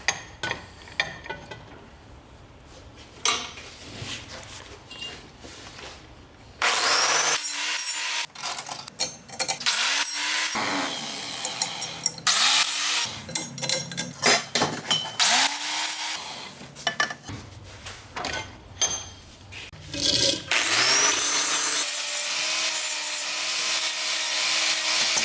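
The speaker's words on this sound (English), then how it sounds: "we just need to throw them in the vise and just clean up all the edges with a flap wheel" A flap wheel on a handheld grinder cleans up the edges of steel frame pieces clamped in a vise, close and loud, in repeated bursts of abrasive rasping over a steady motor whine that drops out and spins back up between passes.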